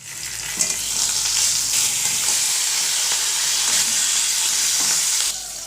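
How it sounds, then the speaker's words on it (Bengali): Fish sizzles and spits in hot oil in a frying pan, a dense, steady crackle close by that rises after a brief knock and runs unbroken until it softens near the end, with no one speaking. "সেই তো মাছ ভাজি করছি, এক এক করে রান্না করবো এখন।"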